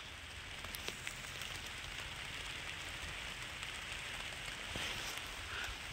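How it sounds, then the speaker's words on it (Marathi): Steady rain falls on a crop field, a dense even hiss with scattered drop ticks, faint and continuous with no voices. "सध्याला पाऊस चालू आहे।"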